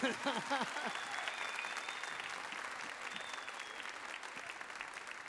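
A studio audience applauds on a Turkish entertainment show, a dense, steady wash of clapping that holds for the whole stretch, with a brief burst of voices at the start.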